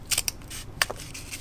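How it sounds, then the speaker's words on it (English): Scissors trimming single-layer corrugated cardboard, a few quick close snips clustered at the start and another pair of cuts a moment later, crisp and alone. "And trim this off a little."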